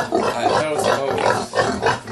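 Several pigs kept by a community farm grunt in close, repeated bursts, a dense rhythmic snorting chorus lasting about two seconds.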